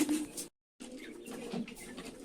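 Pigeons coo softly nearby while others fly rounds overhead, a low murmuring coo broken by a short dropout, then continuing faintly with light rustling.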